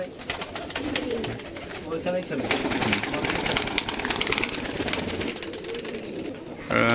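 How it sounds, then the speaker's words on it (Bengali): Giribaz pigeons coo repeatedly at a farm housing many birds, soft throaty calls close by under continuous background noise, with people talking over them. "আমিও নিজেও অন্য কবুতর পালি কিন্তু গিরিবাস কবুতর শখের কবুতর"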